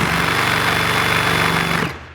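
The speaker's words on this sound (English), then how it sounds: "This is this normal Milwaukee Sawzall." A Milwaukee Sawzall reciprocating saw running, a loud, rapid rattling buzz of the blade stroking steadily up close before the motor cuts off and winds down at the end.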